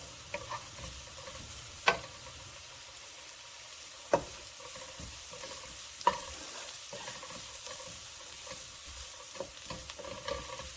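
Chopped onions sizzling and frying in a pan, a steady soft crackle with occasional sharp scrapes and taps of a stirring utensil against the pan, close and with no voices.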